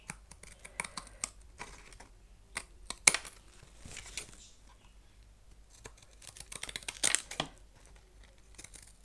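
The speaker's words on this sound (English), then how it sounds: "getting the scissors out and just going ahead anyway" Scissors trimming paper for a steampunk mini art journal page, a series of short crisp snips and paper rustles, close and fairly quiet, with pauses and handling noise between bursts.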